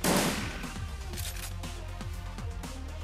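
Gunfire during a boss battle in the Shadowrun Returns video game: a loud opening blast followed by a regular series of sharp shots over a low droning background.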